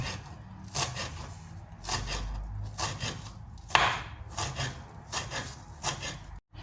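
Knife chopping green onions on a cutting board for a homemade salad, a series of crisp, evenly spaced chops close up with no talking.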